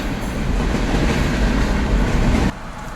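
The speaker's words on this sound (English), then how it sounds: "That train is going fast now." A fast train rushes past at close range in Branson, Missouri, a loud steady rumble with rattling wheel noise that cuts off abruptly near the end, leaving quieter background.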